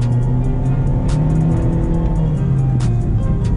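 Toyota Corolla with a 1.2T turbocharged engine accelerating, a steady interior engine drone rising gently in pitch, fairly loud and with no talk over it.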